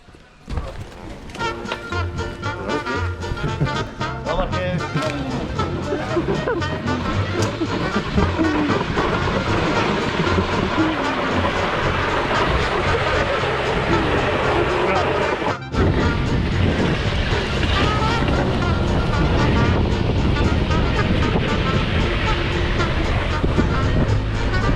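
A wooden toboggan sled runs down the steep streets of Funchal, Madeira, giving a continuous loud rumbling, scraping roar with clattering knocks and a brief break near the middle.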